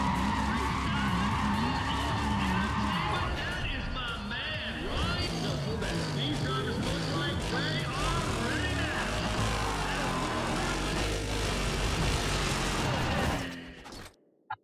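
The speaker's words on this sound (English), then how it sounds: "Unfortunately, I crashed there." Loud, continuous racing car engine roar with tire skidding and a crash in the Need for Speed ProStreet video game, sustained throughout before cutting off abruptly near the end.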